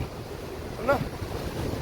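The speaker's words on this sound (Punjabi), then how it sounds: "ਨਾਲ ਨਾਲ ਵਗਦੀ ਆ ਇੱਕ ਰਿਵਰ" A river flows beside a mountain road in Spiti, making a steady broadband rush mixed with wind noise, with a brief faint brighter splash partway through.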